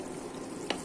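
Okra hitting hot oil in a frying pan crackles in a dense, even sizzle, close and moderately loud, with one sharper pop during a brief moment.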